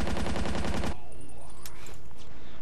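A short burst of rapid automatic fire from a German MP40 submachine gun in the Battlefield 1942 video game on the Berlin map, loud and rhythmic for about a second, then trailing into faint battle noise and scattered distant shots.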